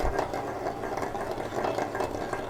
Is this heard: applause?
no